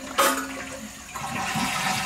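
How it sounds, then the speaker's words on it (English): A household toilet flushes to empty its tank after the water shutoff valve has been closed, giving a sudden loud rush of water that settles into a steady draining swirl, close by with no talk. "I'm going to flush to empty the tank because I got the shutoff off"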